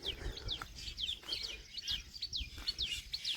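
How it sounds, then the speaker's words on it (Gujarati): Sparrows chirping, quick repeated high chirps in a lively rhythm close by, over a low rumbling background. "જે ચકલા કેવા મસ્ત બોલે, ચી ચી થાય"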